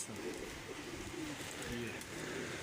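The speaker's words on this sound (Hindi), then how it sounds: "ये कबूतर है जी असल।" Teddy pigeons coo softly in a few low, rolling calls, faint and close, against background noise, with someone talking nearby.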